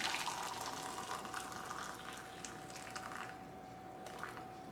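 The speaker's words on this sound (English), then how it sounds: "I'm going to pour my 2 cups into my measuring cup" About two cups of liquid pours steadily into a measuring cup in a home kitchen, a soft continuous splashing stream that tapers off over a few seconds.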